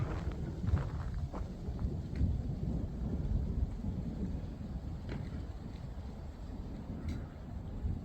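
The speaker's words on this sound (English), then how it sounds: "Over in this direction, we're hearing thunder right now." Distant thunder rumbles low and continuous beneath wind buffeting the microphone outdoors during an approaching storm with light rain, faint and muffled with no voices.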